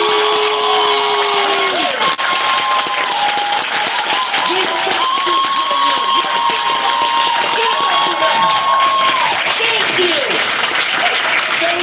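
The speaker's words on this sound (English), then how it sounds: "Give them a round of applause." Loud, sustained applause and cheering from a town hall audience for high school students, dense clapping mixed with crowd voices and shouts throughout.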